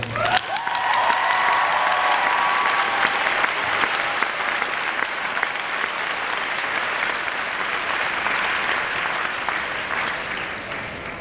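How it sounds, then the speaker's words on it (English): A St. John's University graduation crowd applauds the class of 2014, a dense, sustained roar of clapping from a large audience that holds steady for over ten seconds, with some cheering mixed in. "would everyone join me in applauding the class of 2014?"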